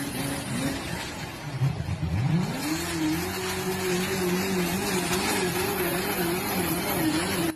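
Runaway diesel engine with a blown turbocharger feeding engine oil into the intake, revving out of control: a loud, sustained roar that climbs sharply in pitch and then holds at a high screaming rev with wavering tone.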